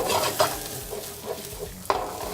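Onions hit a hot pan for a paleo mushroom medley and fry with a steady broadband sizzle, close and moderately loud, with a few sharp scraping or stirring clicks from a utensil.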